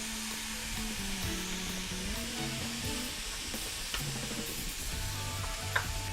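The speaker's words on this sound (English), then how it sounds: "Now you're just going to give it a mix until a thick paste forms." Fish sauce and dry Bún Bò Huế seasoning being stirred into a thick paste in a pan just taken off the heat, giving a steady close sizzle with soft scraping and stirring noises throughout, and no one speaking.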